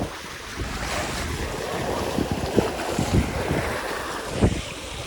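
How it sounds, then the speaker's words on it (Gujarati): Steady wind blowing across an open outdoor space by a village lake, with a constant rushing hiss and occasional low gusts buffeting close to the microphone; no one speaks. "મસ્ત ઠંડો ઠંડો પવન આવી રહ્યો છે"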